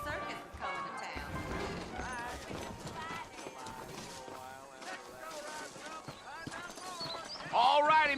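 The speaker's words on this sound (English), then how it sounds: "I got the horses saddled up and ready out front." Horses clip-clop in the Red Dead Redemption video game, hoofbeats running steadily under character dialogue and background music throughout.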